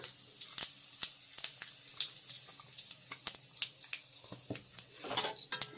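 Bay leaves and cumin seeds tempering in hot oil in a pan for a rohu fish curry, a faint steady sizzle with scattered crackles and pops, growing busier toward the end.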